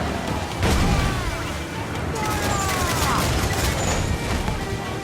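Ship cannons fire in a naval battle in Assassin's Creed IV: Black Flag, heavy booming volleys rolling over each other amid crackling battle noise, with shouted voices in the mix.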